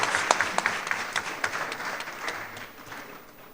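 A round of applause for Laboni Senior High School at a founder's week celebration, scattered distinct claps standing out over a crowd's clapping that gradually fades toward the end.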